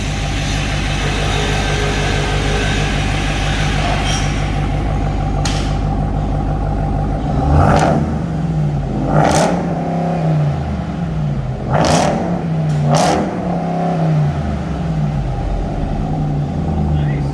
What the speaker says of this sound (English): we're going to try to do some revs here